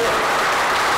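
Applause from a village audience gathered inside the reopened church of Forcella, a loud, dense wash of clapping that fills the whole moment without pause.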